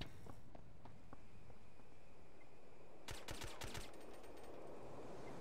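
Rapid bursts of automatic gunfire from the SOCOM U.S. Navy SEALs video game during an oil platform assault, a few faint shots and footsteps early, then a loud volley of close shots after a few seconds over steady game ambience.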